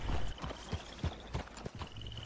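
Horse hooves clip-clop in Red Dead Redemption 2, a horse walking at a steady uneven rhythm of roughly a dozen soft thuds over a constant background hum, fairly close and moderately loud.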